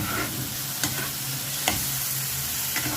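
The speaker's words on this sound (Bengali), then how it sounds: "এবার একটু ভালো করে কষার জন্য সময় দেব আমি" Spiced curd gravy for doi katla fish curry sizzles steadily in a pan as it is sautéed, with occasional scrapes and stirs of the spoon and no talking.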